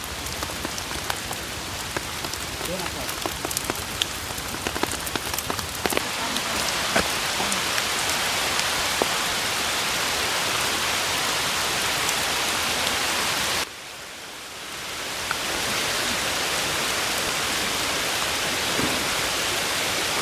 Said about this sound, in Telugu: భారీ వర్షం అయితే పడుతుంది